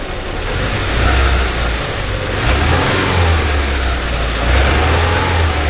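The engine of a 1979 Porsche 924 runs close by at a steady, rumbling idle with small surges and dips, the faint unevenness hinting at a slight hesitation, and no voices are present.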